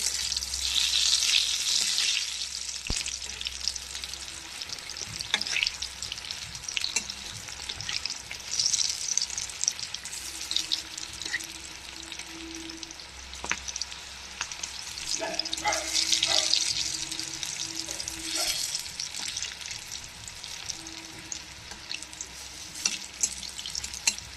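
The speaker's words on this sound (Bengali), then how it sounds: "পটল ভাজা দেখো হচ্ছে আস্তে আস্তে পটল ভাজা" Pointed gourd (potol) fries in a pan with a steady hissing sizzle that swells and eases over a long stretch, with occasional clinks and scrapes of stirring.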